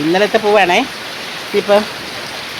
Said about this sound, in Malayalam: നല്ല മഴയാണ് ഇത്. അടിപൊളി മഴ.